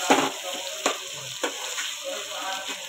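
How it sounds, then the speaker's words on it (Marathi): Tomatoes frying in a pan for chicken biryani, a steady close sizzle broken by a few sharp stirring scrapes near the start and middle, with no talk over it. "आता आपण टाकूया टमाटर. टमाटरला काय वेळ लागणार नाही आपल्या भाजायला"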